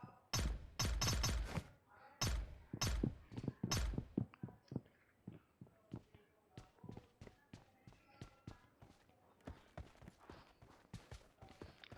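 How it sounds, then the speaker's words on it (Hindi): Footsteps in a shooter video game: a run of loud, sharp thudding steps in quick rhythm, then fainter, scattered steps that trail off. "तो मुझे अभी फुटस्टेप्स आए थे"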